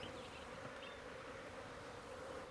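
Bees swarm at a bee fence that guards crops against elephants, giving off a steady, dense buzzing drone that holds evenly throughout, with no voices.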